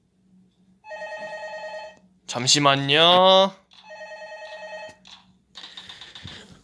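A telephone rings with a call about voting, two clear ring bursts separated by a short spoken line, then a further fainter electronic tone at the end.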